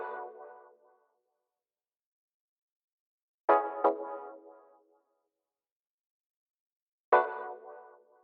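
A Rhodes electric piano plays sparse chords in a house track, each one struck crisply and decaying into silence, shaped by an LFO-driven auto filter sweep, three separate hits heard clean and alone.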